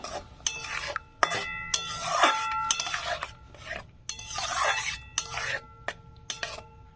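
Semolina and water are stirred in a pan with a utensil, giving close, uneven scraping and swishing strokes punctuated by sharp clinks of metal against the pan, with no voices.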